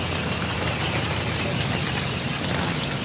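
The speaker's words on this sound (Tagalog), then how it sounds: "Sobrang lakas ng ulan." Heavy rain pours down steadily in Angeles, Pampanga, a dense, loud, unbroken hiss of drops drumming on surfaces, with a faint engine idling underneath.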